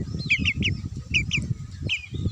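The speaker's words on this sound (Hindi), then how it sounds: "मोर क्रॉस ब्रीड आसिल चिक्स" Crossbreed Aseel chicks cheep in short high bursts of two or three calls, fairly close, over a low rumbling background on a backyard poultry farm.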